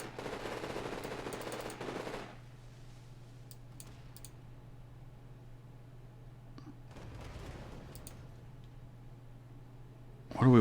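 Bursts of gunfire in the Iron Conflict real-time strategy game, a dense, rapid rattle at the start and another near the middle, with quieter clicks and a low hum between them.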